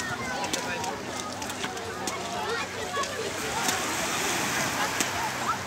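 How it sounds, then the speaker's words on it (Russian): Small sea waves wash onto the crowded Lazurny beach at Lazarevskoye in a light breeze, making a continuous low surf and wind noise under a voice speaking close by. "Ну вот море как бы не очень спокойно. Есть небольшие волны, так как поднялся ветерок."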